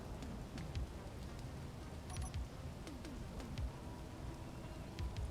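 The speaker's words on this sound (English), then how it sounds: "this constant rain can piss off." Steady rain falls in the video game Space Engineers, a soft continuous patter with scattered faint drips and clicks, quiet and without talk.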